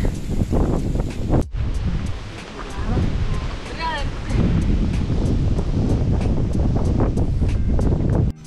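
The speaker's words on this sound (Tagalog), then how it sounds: "Napakalakas ng hangin." Loud, steady wind roaring and buffeting the microphone throughout at a campsite, with muffled voices speaking Filipino and a rushing, surf-like background.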